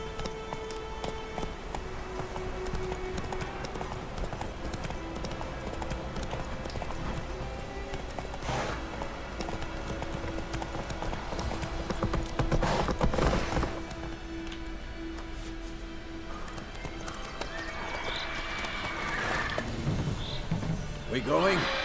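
Horse hooves clip-clop in the video game Witcher 3, a steady galloping patter under continuous game ambience and music with occasional other effects, moderately loud throughout.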